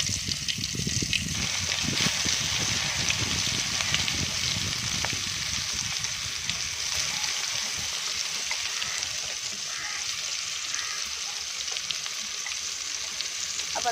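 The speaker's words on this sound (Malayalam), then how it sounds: "അപ്പം തിളച്ച എണ്ണയിലോട്ട് നമ്മൾ മീനിടാൻ പോവുകയാണ്." Tuna pieces dropped into hot oil for frying, with a loud bubbling sizzle and crackle that burst out at first and then settle into a steadier, quieter hiss.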